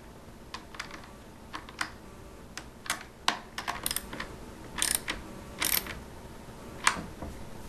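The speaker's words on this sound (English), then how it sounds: "take my 3/8 deep extension here, and I need to tighten these down" A 3/8-inch ratchet on a deep extension tightens ground screws inside a Light-O-Rama Christmas lighting control box, giving sparse, sharp, close clicks in short irregular bursts against quiet room tone.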